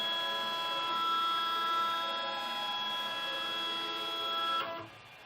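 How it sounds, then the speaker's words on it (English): Motor of a line scan camera test setup running, a steady whirring hum with a high tonal whine that holds evenly for several seconds, then stops abruptly near the end. "So let's start the motor and then capture image."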